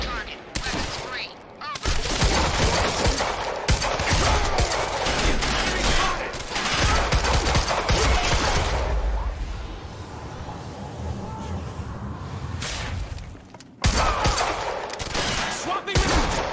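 Heavy, sustained gunfire in the video game Quantum Break's industrial area, dense automatic bursts and blasts filling the scene with brief pauses, loud and close, with shouting voices mixed in.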